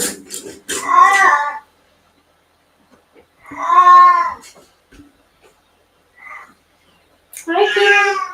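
A pet cat gives a few separate meows with pauses between them, up close and fairly loud in a quiet room.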